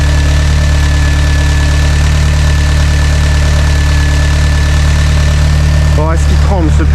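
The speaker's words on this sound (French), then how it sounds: "est-ce qu'il tremble ce putain de moteur?" A car engine idles loudly and steadily with a low, shaky hum; near the end a voice briefly speaks over it.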